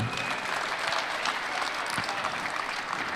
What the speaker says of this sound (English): Big round of applause for that Ford F-100.